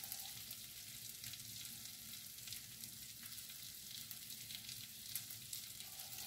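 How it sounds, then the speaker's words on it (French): Garlic and shrimp sautéing in a pan give a steady, close sizzle with a broad hiss throughout, with no talking. "On va laisser revenir ça pas longtemps. Juste le temps que ça prenne le goût de l'ail un peu partout."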